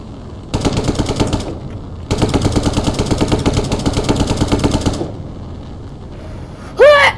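Rapid machine-gun fire during a hang glider dogfight in a video game: a loud burst of about a second, a short pause, then a longer sustained volley of nearly three seconds, followed by quiet and a brief rising whistle.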